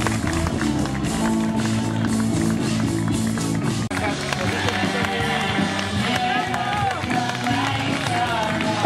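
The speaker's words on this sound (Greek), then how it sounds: "ένα χειροκρότημα" At the finish of the Olympus Marathon, a crowd applauds a runner crossing the line, steady clapping and cheering mixed with a loud announcer talking over it and outdoor event bustle.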